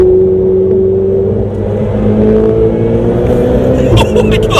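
A Ferrari 488 Spider's turbocharged engine accelerates hard, heard loud from inside the open-window cabin as a dense rising roar and whir that builds steadily throughout.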